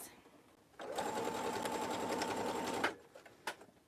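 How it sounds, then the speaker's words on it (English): A sewing machine runs a steady seam on a tote pocket piece for about two seconds, close and even, then stops with a couple of faint clicks afterward. "I'm just sewing my pocket piece"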